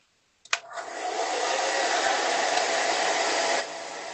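Hair dryer switched on with a click, then a steady, loud blowing whoosh that holds evenly for about three seconds before dropping slightly in level, close by with no talk.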